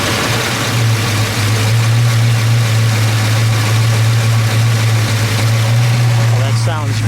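1971 Ford Mustang Boss 351 V8 running at a steady, loud, close idle with a deep low rumble throughout, while voices talk over it.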